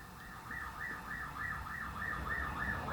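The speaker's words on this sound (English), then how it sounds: "So the police sirens." Police sirens wail outside in a neighborhood of South Dallas, a faint, distant rising-and-falling tone repeating steadily over low background rumble.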